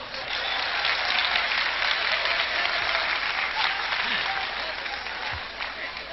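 Audience clapping at a stand-up comedy show at a Kumbh Mela camp in Ujjain, a dense, loud, continuous burst of applause from a large crowd that fades slightly toward the end.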